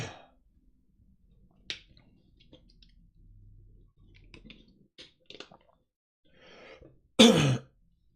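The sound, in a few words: cough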